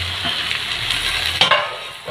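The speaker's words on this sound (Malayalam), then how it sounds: "ഇനി നല്ലതായിട്ടൊന്ന് മിക്സ് ചെയ്ത് കൊടുക്കാം." Cooked pasta is stirred through a hot frying pan, giving a steady sizzle with soft scraping and clinking for about two seconds, close by and without talk.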